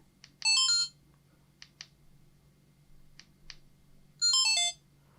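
A bright electronic startup chime melody plays from a DJI Osmo Action camera, followed by a few short beeps and clicks, then the melodic chime sounds again; small device speaker, close and clear.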